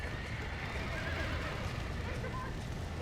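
A horse neighs with hoofbeats in a Red Dead Redemption game scene, a continuous dense mix where the whinny rises over steady low rumble and clatter, with a voice talking over it.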